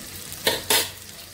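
Eggplant fritters (begun chop) frying in a pan give two short, close bursts of sizzling and spattering, a second apart, over a quiet kitchen background with no talk.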